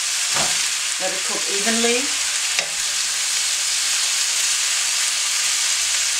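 Vegetables and bowtie pasta stir-fry in a hot pan on high heat with a loud, continuous hissing sizzle, broken early by a few short clatters of stirring, close by, while a voice speaks briefly.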